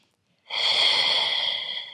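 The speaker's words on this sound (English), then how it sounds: "Exhale through the mouth. Inhale through the nose, ribs go wide" A single long, steady breath of air, close and loud, starting after a short silence, during a beginner Pilates core exercise of inhaling through the nose and exhaling through the mouth.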